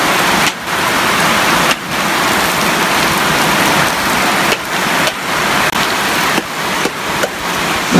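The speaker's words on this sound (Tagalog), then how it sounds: "Kasi sobrang lakas yung ulan" Heavy rain pours outside a house, a loud, steady broadband hiss with a few brief dips, continuous throughout with no voices.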